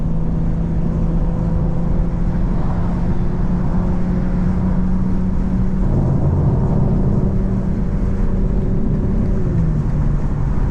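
A 2024 BMW M4 Competition xDrive cruising in all-wheel-drive mode, heard from inside as a steady, subdued engine and exhaust drone with a low rumble that shifts slightly in pitch, continuous and fairly loud.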